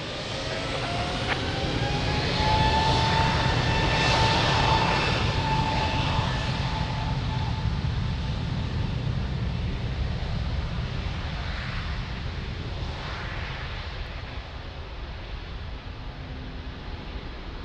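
A Turkish Airlines jet roars down the runway on takeoff at Lisbon Airport, a broad, sustained engine rumble with rising whine that stays loud, then slowly fades as it climbs away.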